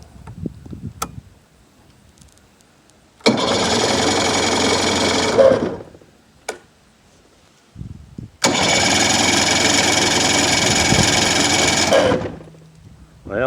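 The outboard engine of a 16-foot Smokercraft boat is pulled over, then bursts into a loud, buzzing run for about four seconds and dies. After a pause it starts again and runs for about four more seconds, with scattered handling noises between the two runs.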